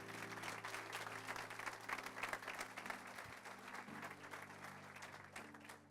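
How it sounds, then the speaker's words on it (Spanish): A church congregation claps in sustained applause picked up by a microphone held toward them, many hands in a dense rhythmic patter over a low steady hum, tapering slightly at the end. "Les pongo el micrófono para que escuchen el aplauso, mirá."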